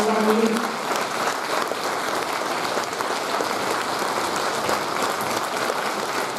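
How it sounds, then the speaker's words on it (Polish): An audience at an anniversary celebration for a volunteer fire brigade brass band in Zielonka Pasłęcka gives loud, sustained applause, a thick continuous roar of many hands with a crowd murmur beneath it. "wielkie brawa"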